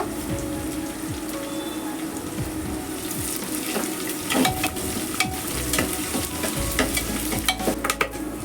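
Bay leaf, dried red chilli and whole cumin seeds fry in hot oil for Manipuri-style khichdi, making a loud dense crackle and spatter of popping that builds and stays close throughout, with occasional stirring knocks.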